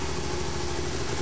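A Can-Am Spyder three-wheeled motorcycle idles in neutral just after starting, a loud, close, even engine rumble holding steady throughout, with no talking.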